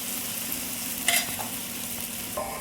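Rava uttapam batter poured onto a hot pan gives a steady, close sizzle with a brief louder burst partway through, and no one speaks.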